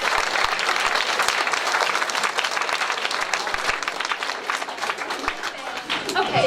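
Crowd applause at a high school winter sports awards ceremony, sustained and fairly loud clapping from many hands, steady throughout with a slight dip and swell near the end.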